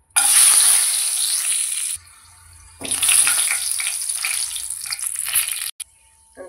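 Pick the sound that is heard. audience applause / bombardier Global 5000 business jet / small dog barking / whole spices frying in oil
whole spices frying in oil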